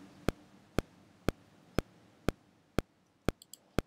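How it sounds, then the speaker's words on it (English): A metronome click track from a Pro Tools session ticks in a steady, evenly spaced pulse of about two sharp clicks per second, crisp and isolated against a quiet background. "let's go through them one by one and just listen to the click for a second"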